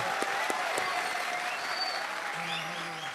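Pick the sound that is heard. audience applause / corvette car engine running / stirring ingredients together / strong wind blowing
audience applause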